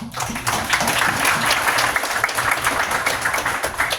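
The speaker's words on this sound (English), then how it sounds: "Let's give a round of applause." A crowd applauding steadily, dense clapping from many hands that stays loud throughout without fading.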